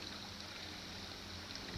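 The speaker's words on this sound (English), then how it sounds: "So down here is the creek, or part of the creek that goes up." A creek flows close to a hiking trail, a quiet, steady rush of running water with no breaks and no voices.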